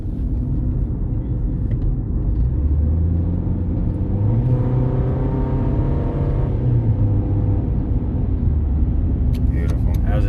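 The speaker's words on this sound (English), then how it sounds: "See what a downshift's like. We'll get video of a downshift." A high-mileage Honda Civic engine rumbles steadily from inside the moving car, with its pitch rising and then falling during a downshift.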